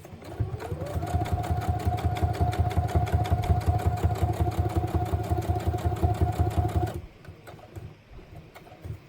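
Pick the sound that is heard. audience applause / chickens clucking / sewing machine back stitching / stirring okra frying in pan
sewing machine back stitching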